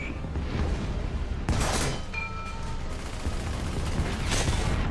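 Tank cannon fire in War Thunder from a heavy Maus tank, a few loud booming shots spread across a continuous rumbling engine and battle noise, with no talking.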